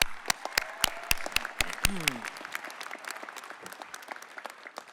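Applause from graduates, friends and family at a graduation ceremony, a sparse round of individual claps near and far that thins out toward the end, with no talk over it.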